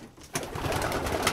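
A young red hen pigeon coos in a brief, low burst that starts abruptly after a quiet moment, heard close and alone.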